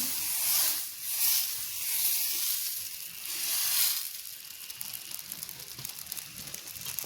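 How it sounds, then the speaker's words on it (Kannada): Dosa batter hisses and sizzles on a hot pan with no oil, a loud broadband fry that swells and fades in waves before settling into a steady, softer crackle. "ಇನ್ನೊಂದು ದೋಸೆ ಹಾಕಿ ತೋರಿಸ್ತಾ ಇದ್ದೀನಿ"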